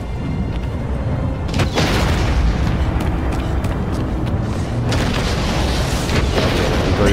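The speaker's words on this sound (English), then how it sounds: "he is charging a big bang attack," A colossus in Shadow of the Colossus unleashes a huge charged blast attack: a sustained, loud booming rumble that fills the whole stretch, with a sharp burst near the start and another surge of blast noise a few seconds later, no talk over it.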